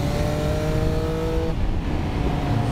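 A Triumph Speed Triple RS three-cylinder motorcycle engine drones loud and close as a steady, rough roar with a slight shift in tone midway, heard alone.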